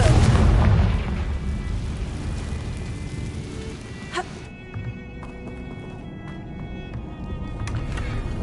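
A Confringo blasting spell in Hogwarts Legacy erupts with a heavy boom at the start, then fades into a lingering low rumble with a few small pops and crackles afterward.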